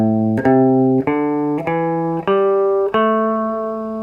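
Six plucked guitar notes of a minor pentatonic scale climb one after another at an even pace, each ringing clearly until the next, ending an octave higher.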